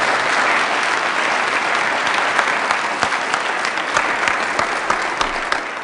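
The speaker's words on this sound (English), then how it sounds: "Let's give them a round of applause." A Kansas City audience at a startup pitch event breaks into a steady round of applause, dense and fairly loud throughout with no talking over it.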